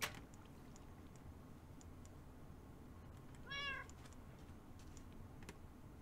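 A single short cat meow rises briefly from quiet game audio in a video game, with scattered faint clicks and ticks around it.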